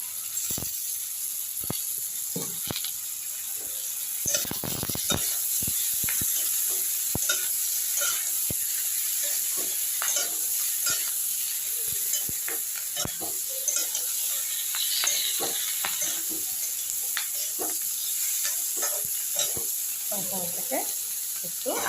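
Onions, tomatoes and chillies sizzle in a pan on a gas flame, with a steady frying hiss broken by frequent sharp scraping and clinking as the mixture is stirred, and no one speaking.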